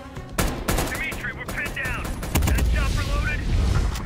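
Gunfire from a gun in the video game Call of Duty Black Ops Cold War: several sharp close shots and short bursts cracking out at irregular intervals, with someone talking excitedly in between and over them.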